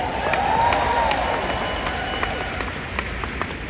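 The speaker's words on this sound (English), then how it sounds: "Can you give them a big round of applause?" A crowd applauds and cheers, with broad clapping noise and a few sharp accents running throughout, loud and steady.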